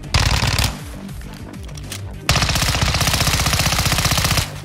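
Fennec 45 submachine gun fire in Modern Warfare 2, with loud, close, rapid full-auto bursts: a short burst, a pause with softer rattling, then a long sustained stream of fire.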